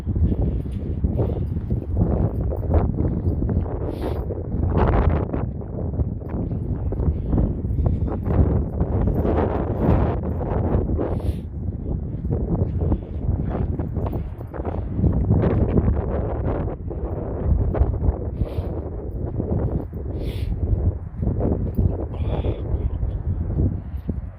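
Cold wind blowing hard across a microphone on a walk outdoors near Holbeach, a continuous loud rumbling buffet that never lets up.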